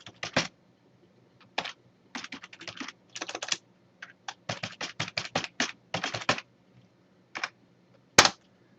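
Someone types a name and email address on a computer keyboard, producing close, crisp keystroke bursts in irregular clusters with short pauses between them and no talking.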